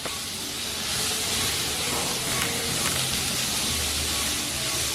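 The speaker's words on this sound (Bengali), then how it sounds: "লো টু মিডিয়াম ফ্লেমে কুমড়োগুলো ভেজে নিলাম।" Pumpkin pieces fry in a pan over low to medium flame with bitter gourd, giving a steady, dense hiss and sizzle throughout, with no talking.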